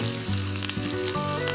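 Dried red chillies frying in oil in a bowl, giving a steady close sizzle with a low hum underneath for the whole stretch.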